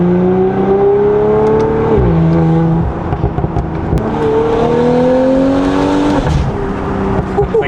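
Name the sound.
Audi S5 revving with Valvetronic Designs valved sport exhaust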